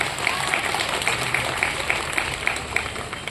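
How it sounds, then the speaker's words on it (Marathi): Crowd at a political rally for a Shiv Sena election campaign, applauding in a dense, steady wash of clapping with a few sharper claps standing out. "सर्वप्रथम साहेबांसाठी जोरदार सर्वांनी टाळ्या वाजवायच्या आहेत"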